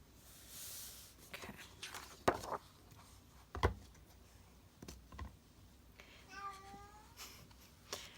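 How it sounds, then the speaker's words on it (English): A male cat gives a short meow late in the clip, faint against quiet room sounds, soft tapping and occasional handling noises while paper crafting goes on nearby. "Poor cat. Nobody's paying attention to him."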